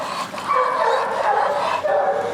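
A big, strong adoptable shelter dog barks and yips in short bursts close by, with a person's voice mixed in around the calls.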